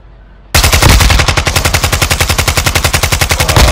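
Rapid machine gun fire in a video game erupts suddenly after a moment of near silence, a loud, steady stream of closely spaced shots continuing without pause.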